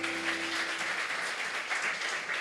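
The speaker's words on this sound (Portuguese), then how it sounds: "Vamos aplaudir?" A church congregation at a family worship service claps together, a dense, even patter of many hands heard from a little way off, with a brief fading musical tone at the start.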